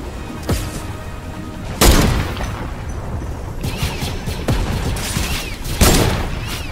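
Gunfire echoes through a Fortnite match as a series of loud booming shots, several heavy cracks spaced a second or two apart over continuous in-game ambience.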